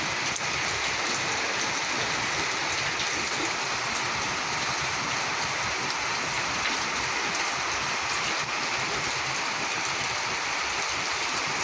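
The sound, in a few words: heavy rain falling in Curitiba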